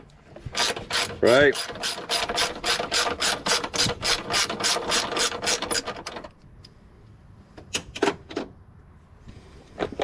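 A ratchet wrench turns a tight 1/2 inch bolt on the headlight mounting bracket of a 2003 Hemi Ram 1500, a long run of rapid close clicks, then a pause and a few more short ratchet bursts; a voice speaks briefly.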